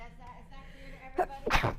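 A single sneeze bursts out sharply near the end of a short stretch of indoor speech, preceded by a brief intake-like sound.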